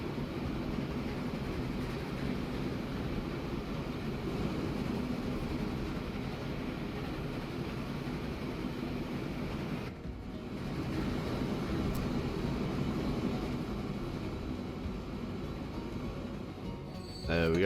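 A train in the Transport Fever 2 video game runs with a steady low rumble and hum that holds through the whole stretch, briefly dipping midway, while someone talks over it.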